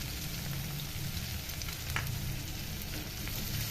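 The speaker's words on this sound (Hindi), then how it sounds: "अदरक लहसुन डाल रहे हैं," Crushed ginger and garlic frying with onions in a pan make a steady, close sizzle that stays even throughout, with a faint stirring scrape partway through.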